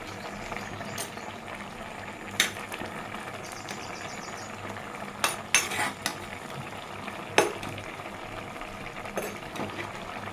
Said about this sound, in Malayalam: നമ്മുടെ പീര ഇങ്ങനെ തിളച്ചുകൊണ്ടിരിക്കുകയാണ്.